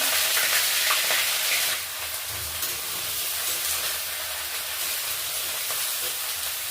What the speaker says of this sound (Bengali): ফুলকপিটা দিয়ে ভেজে নিচ্ছি।